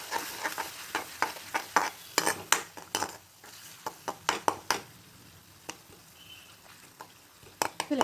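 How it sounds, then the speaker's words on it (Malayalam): Tomato sauce, red chilli sauce and soy sauce are stirred in a hot pan, a rapid run of close metal spoon clinks and scrapes over a light sizzle, thinning out toward the end. "ഇത്ര ഒഴിച്ചിട്ട് നന്നായിട്ട് മിക്സ് ചെയ്യും."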